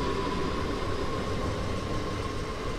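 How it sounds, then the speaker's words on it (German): An S-Bahn class 422 electric train pulls away from a station in Train Sim World 2, a steady rumbling roar with a faint tonal whine, continuous and fairly close throughout. "Hier sind wir jetzt bei der S-Bahn nochmal angelangt. Hier fährt sie gerade weg."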